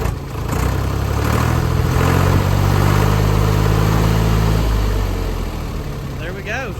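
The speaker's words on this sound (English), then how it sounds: "She's running. Give it a rev." An old tractor engine runs loud and close, its rumble swelling as it is revved through the middle and easing off toward the end, with voices heard briefly over it.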